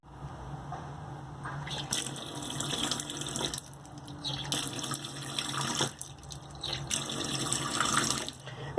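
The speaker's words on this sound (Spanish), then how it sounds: "si yo ahora acá va a salir agua fría mezclada con agua caliente" Water runs from a newly installed washing machine faucet fed with hot and cold supply, a hissing stream into a sink that swells and drops in bursts with faint background clatter.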